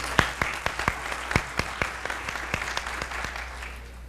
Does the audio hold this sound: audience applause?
yes